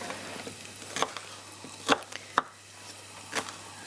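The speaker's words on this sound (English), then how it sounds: "So I've cut the shallots up again in sort of little dicey bits." Knife chopping shallots and brown onion into small dice on a board, a few sparse, sharp cuts spaced apart over a low steady hum, fairly quiet.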